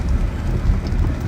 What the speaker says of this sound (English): the rain makes the viewing a little tough